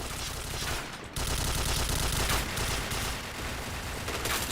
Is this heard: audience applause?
no